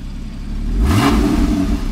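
A Porsche Cayman S with its exhaust flaps closed gives a short rev close by. The engine climbs to a rising whir, holds for a moment and then settles back to a steady idle.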